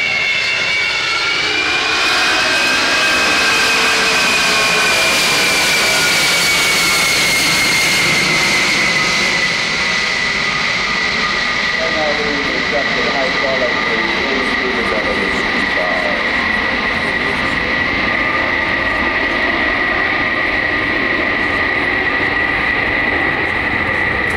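A C-5 Galaxy jet passes at an airshow and climbs away at full power, a loud continuous engine roar with a high whine that slowly falls in pitch as the aircraft recedes, filling the whole stretch.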